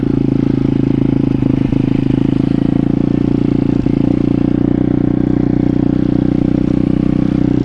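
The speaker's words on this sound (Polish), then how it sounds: "trójce sobie będziemy pomału pyrkać na wolnych obrotkach niech się dociera ładnie" A 170 cc pit bike engine idles along at low revs in third gear during break-in, a steady loud putter with a constant low drone and occasional small clatters, no voices.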